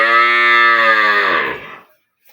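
A single long, loud moo close by from a Friesian or Sahiwal dairy cow, holding steady before trailing off into silence.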